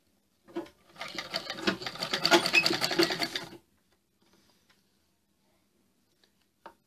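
A sewing machine stitches a Chinese-style collar onto a sherwani suit in a quick, rattling burst of about three seconds, then falls silent apart from a faint click near the end.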